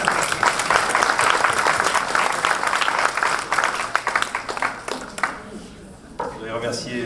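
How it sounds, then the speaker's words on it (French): Audience applause at an art exhibition opening in a French town, loud sustained clapping from a crowd that gradually thins out into scattered claps and fades near the end. "On t'applaudit."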